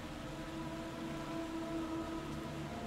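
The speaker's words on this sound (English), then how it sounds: "A siren's noise." A low, droning siren in Castlevania: Lords of Shadow wails steadily under a murky rumbling background, faint and distant-sounding, holding its pitch for a few seconds.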